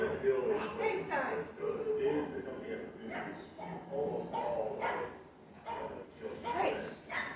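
Wild dogs outside a gate give repeated scattered barks and yips at a moderate distance, while people talk loudly nearby throughout.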